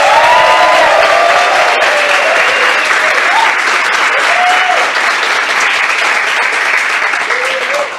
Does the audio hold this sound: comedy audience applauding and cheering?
yes